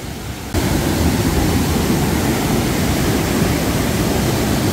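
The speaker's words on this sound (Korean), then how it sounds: "저 위에서 폭포가 한번 들어옵니다." A mountain-valley waterfall pouring into a pool, a loud, dense, continuous roar of falling water that swells in abruptly after a quieter half-second and holds steady.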